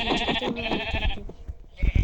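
Minecraft sheep bleat in quick, wavering cries that overlap one another, followed by a brief lull and a few low thumps at the end.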